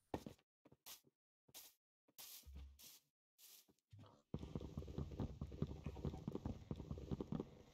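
Horse hooves clip-clop in the Arrowcraft block-building game: a few sparse, isolated thuds at first, then a dense, continuous run of rapid hoofbeats at moderate loudness.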